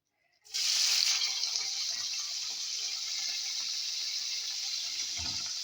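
Wild field mushrooms dropped into hot oil in a pan, bursting into a loud, steady hiss and sizzle that starts suddenly after a brief silence and holds evenly throughout.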